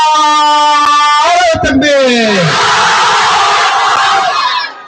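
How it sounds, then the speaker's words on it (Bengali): A large crowd of single men at a mahfil in Konabari, Gazipur, roars a loud takbir in unison, a sustained close shout following a leader's call over a loudspeaker. "সিঙ্গেল ভাইরা তাকবীর দাও না"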